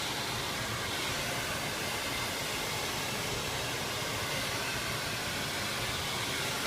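A blow dryer blasts hot air while hair is dried with a metal-bristled brush, a loud, constant rushing whoosh with no voices.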